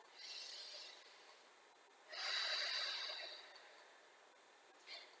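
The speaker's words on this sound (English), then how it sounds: "Take a cleansing breath." A deep cleansing exhale during a curl-up exercise class, a breathy airy rush that swells for about a second, preceded by a softer breath and followed by a brief faint sniff, close to the microphone with no talking.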